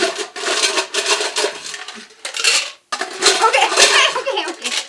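Ice cubes clatter and rattle into a glass while a drink is made, a run of sharp bright clinks in bursts with a brief pause midway, close up and fairly loud.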